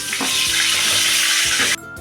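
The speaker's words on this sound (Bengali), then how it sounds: "পটলগুলোকে আমি হালকা করে ভেজে নেব এবার পটলগুলো আমি দিয়ে দিচ্ছি" Pieces of pointed gourd fry in hot oil in a wok, giving a loud, dense sizzle that runs steadily and then drops off abruptly near the end.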